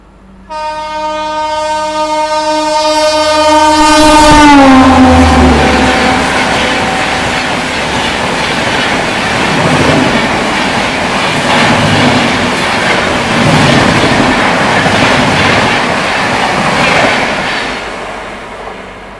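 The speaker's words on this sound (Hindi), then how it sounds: "हमें रानी Kamlapati new Delhi Shatabdi express overtake करेगी।" The Rani Kamlapati–New Delhi Shatabdi Express overtakes on the loop line, its loud horn falling in pitch as it passes close by. The horn gives way to a long, steady roar of wheels and carriages rushing past.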